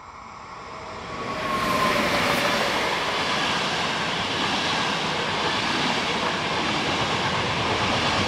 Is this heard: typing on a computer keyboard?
no